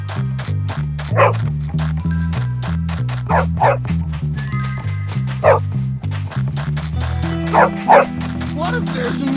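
A dog yips and barks in short bursts in the Bully video game, several times over a looping game music bed.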